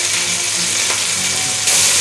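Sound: leg of lamb searing in a pan

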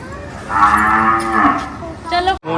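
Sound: cows mooing at a cow shelter

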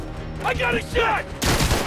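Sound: gunshot in the video game Spider-Man Miles Morales

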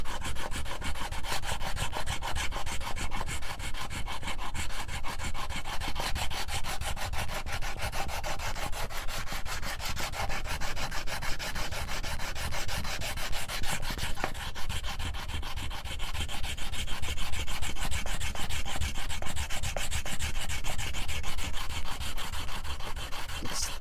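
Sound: sanding a banjo fretboard with 120 grit sandpaper

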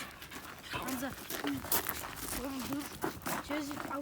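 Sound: dog panting

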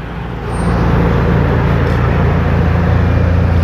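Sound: passing vehicle carrying stubble for cows in village

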